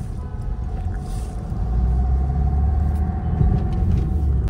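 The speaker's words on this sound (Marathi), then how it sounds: "आता बघा परत ट्रॅफिक झालं राव" Heavy road traffic in a jam with vehicles queued far ahead: a dense, continuous low rumble of engines that grows slightly louder partway through, with no voices.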